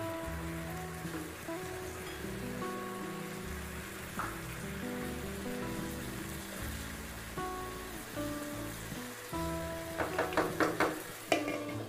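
Onions sizzle in a pan alongside halved potatoes for a quick egg-and-potato breakfast, a steady frying hiss with clinking pops and stirring scrapes near the end.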